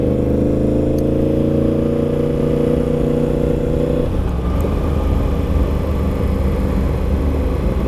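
A vehicle on a short ride, its engine droning loud and steady with a close cabin rumble, the pitch of the drone shifting midway as the speed changes, with no talking.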